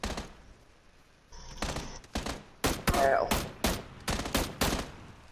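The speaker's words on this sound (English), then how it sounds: "Who's shooting at you?" Gunfire in the battle royale game PUBG, a sequence of sharp, loud single shots and short bursts in quick irregular succession, coming in more rapidly toward the end, with no talking.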